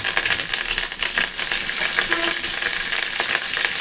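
Onions and curry leaves fry in hot oil in a pan, a loud, close, continuous sizzle and crackle with no talk over it.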